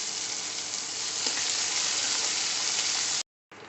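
Onion and green chillies frying in hot oil with mustard and cumin seeds, a loud steady sizzle with crackling that runs unbroken, then cuts out briefly and resumes near the end.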